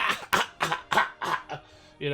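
A voice imitates a cough in a quick series of sharp, throaty bursts, ending with a short voiced call.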